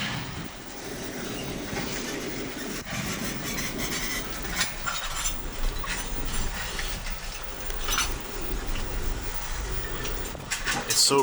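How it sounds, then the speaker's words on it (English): A rail tie replacement train towed along the track by a truck, giving a steady loud rumbling and grinding rattle of wheels and machinery that continues throughout, close by and outdoors. "It's so cool that it's being pulled by just a truck."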